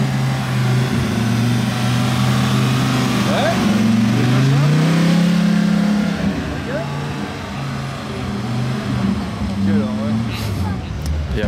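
A car pulls away with its engine rising in a low steady drone that swells and then settles, loud and fairly close, with crowd noise and talk around it.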